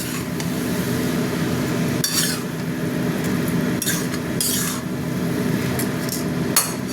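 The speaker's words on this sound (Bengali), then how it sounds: "চারিদিকে মশলাটা মাখিয়ে দেবো নেড়ে নেড়ে" A metal spatula works cabbage and spices around a pan, producing repeated scraping and clattering strokes over a constant low hum, with a few sharper knocks against the pan and no speech.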